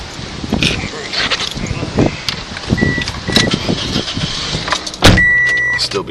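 A car engine runs as the vehicle is reversed into a driveway during a St. Louis wind storm, with a steady motor hum under gusty rustling, a few sharp clicks and thumps, and a louder bump near the end.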